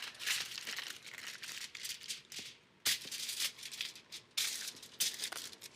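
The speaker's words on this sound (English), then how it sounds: "I just out of habit use the non-stick foil." Non-stick foil crinkles and rustles up close in uneven bursts of sharp crackling, with brief quiet gaps as it is handled and folded.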